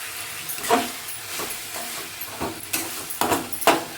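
Capsicum rice with tomato cooks in a pan with a soft, steady sizzle. Several louder stirring scrapes break it at irregular intervals.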